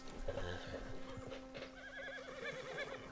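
Horse in the video game Red Dead Redemption 2 whinnies and neighs with clip-clopping hooves, fairly loud and close amid game ambience and a steady background tone.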